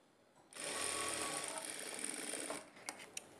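Sewing machine stitching piping onto a prince-cut blouse, a short close burst of fast mechanical whirring that starts abruptly, runs about two seconds, then stops with a few sharp clicks.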